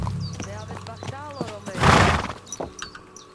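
In the video game Kingdom Come Deliverance 2, horse hooves clop unevenly, then a loud, close neigh rises and fades; a voice talks around it.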